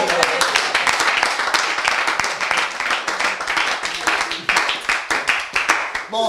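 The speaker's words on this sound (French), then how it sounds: "On acclame très fort" Loud, sustained clapping from a church congregation after an evangelical prayer service, a dense wash of hands that thins into more separate claps near the end.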